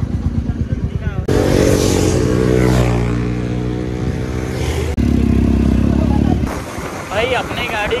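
A green Honda CBR 150 motorcycle rides along a road, its engine droning and revving loudly and steadily with a few brief surges, while voices talk over it throughout.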